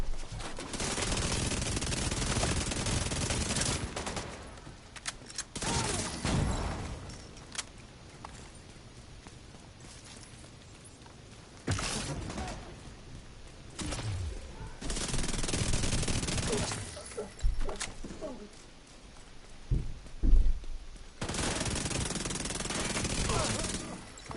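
Bursts of automatic gunfire from The Division 2 video game crackle in repeated clusters separated by quieter stretches, loud and sharp against a low background.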